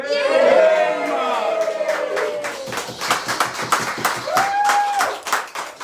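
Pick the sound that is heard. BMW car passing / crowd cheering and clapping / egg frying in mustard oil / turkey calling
crowd cheering and clapping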